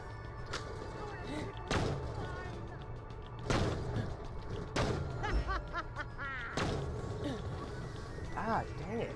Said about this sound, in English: Another fine explosion.